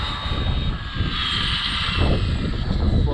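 An Arrma Limitless RC car screams along a road at full throttle on a 4S battery, giving a steady, loud, high motor whine that swells slightly as it nears.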